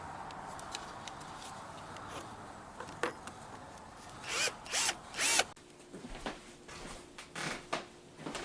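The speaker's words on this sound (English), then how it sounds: "So I'm going to take my drill," Power drill boring a hole in a pressure flaker handle for a copper nail, in short whirring bursts with clicks and handling noise between, fairly quiet and close.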